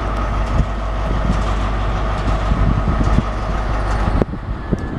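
A heavy freight train loaded with railway sleepers rumbles past close by with a steady low roar and clattering wagons, the noise dropping suddenly near the end.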